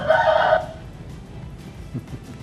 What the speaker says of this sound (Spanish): Hasta un gallo estaba